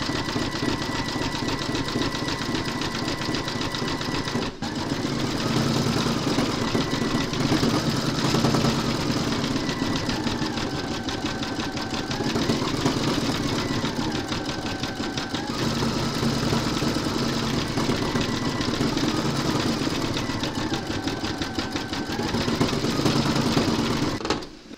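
An embroidery machine stitches a gingerbread house design in red thread, a fast steady mechanical chatter that runs continuously at close range, with a rising and falling whir every few seconds.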